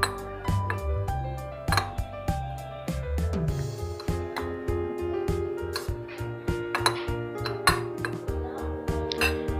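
Chopped bell pepper, green chili and salt are mixed in a bowl, giving a run of close, fairly loud metallic clinks and taps from a spoon striking the bowl at an irregular rhythm.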